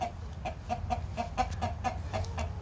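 Chickens cluck repeatedly inside a backyard chicken cage, a steady run of short, close clucks over a low farmyard rumble, with no talking.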